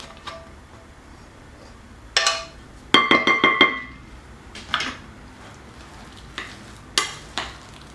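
Chopped onion frying in oil for Tunisian chicken kofta, stirred with a utensil: a soft steady sizzle under a quick clattering run of scrapes and taps against the pan, then scattered lighter knocks.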